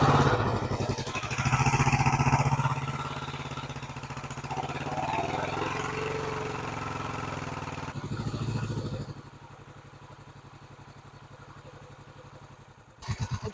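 A motorcycle engine fires up and runs close and loud, a rough rattling chug at first that settles into a steadier, quieter idle before cutting off, then a brief restart.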